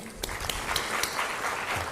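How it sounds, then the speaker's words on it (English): Audience applause at a corporate social responsibility awards ceremony in a Mumbai auditorium, a fairly quiet patter of scattered claps with a few sharper individual hits, moderately distant. "we have to clap and encourage"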